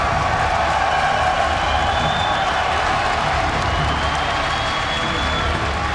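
A large crowd at the StarCraft 2 WCS Grand Finals at BlizzCon roars and applauds in a steady, dense wash of noise that continues throughout without pause.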